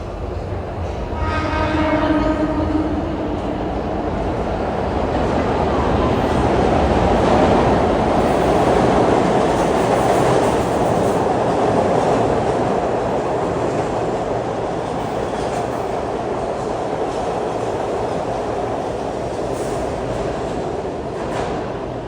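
A Fern Rock bound B2 train on Philadelphia's Broad Street Subway rolls into an underground station, a short horn sounding early, then a loud sustained roar of wheels and motors that builds and holds.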